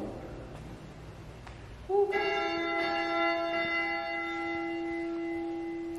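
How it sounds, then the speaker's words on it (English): A church bell at Lake Bled rings out with a single strong, clear strike, then a long, shimmering hum that stays steady for several seconds over quiet outdoor air. "the bell that's here now is actually the second one"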